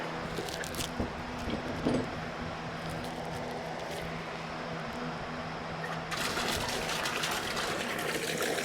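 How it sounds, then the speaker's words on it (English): Water splashes and gushes steadily into a small tub nearby, a continuous wet rush that grows a little brighter toward the end. "I'm gonna add a little bit of water."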